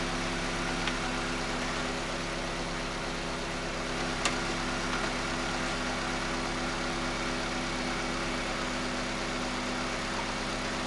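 A car engine idles steadily in a workshop during a MAP sensor test, a constant low hum with faint vibration and no talking, close and unchanging throughout.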